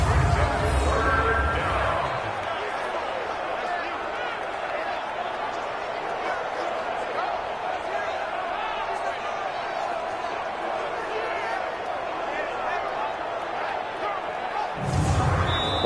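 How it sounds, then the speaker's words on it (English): Stadium crowd noise in Madden 20 during a Texans at Chiefs game, a steady loud roar of fans building ahead of a big third down, with brief low thumps at the start and end. "The crowd getting into it as we come up on a big 3rd down."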